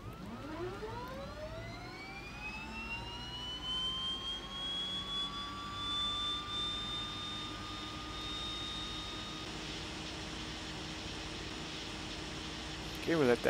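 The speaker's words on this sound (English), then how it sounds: "Start switch engine left, same procedure over here." Aircraft engine spooling up in a flight simulator on a flight from Blönduós to Akureyri, Iceland, with a steady rising whine that climbs and settles into a loud, sustained turbine drone.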